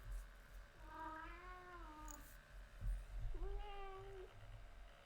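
A house cat meows twice, each a drawn-out, rising-and-falling call close by, separated by a soft thump in a quiet indoor room.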